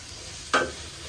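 Ginger, garlic and tomato hit a hot pan with a single short burst of sizzling and stirring, fading quickly into quiet.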